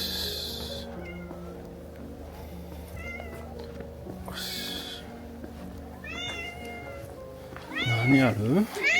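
A cat in a village in southern France meows repeatedly, rising and falling cries that grow louder and more insistent toward the end, with people talking nearby.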